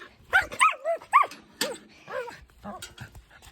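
A dog outdoors gives a quick run of sharp barks and yips, loud and close, in uneven bursts with short gaps between them.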